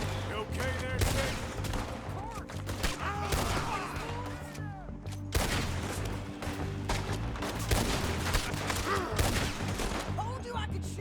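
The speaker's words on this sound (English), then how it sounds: "Told you I could shoot a gun, didn't I?" Gunfire in Red Dead Redemption 2 cracks out in a dense, continuous firefight with overlapping shots and booms, steady and loud against a constant game backdrop, with voices talking throughout.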